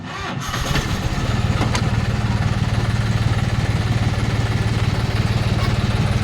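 A Semi Champion multi-speed rotavator engine fires up with a brief start and then settles into a loud, steady, rapid thumping run close by.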